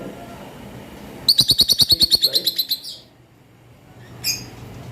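A quick run of about a dozen sharp, high lovebird chirps from cages in rapid rhythm, then a brief squawk and a lone chirp a moment later, close and clear.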